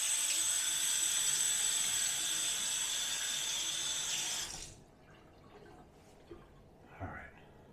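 Tap water runs steadily into a bathroom sink during a face rinse after shaving, then cuts off abruptly, leaving a few faint splashes and drips.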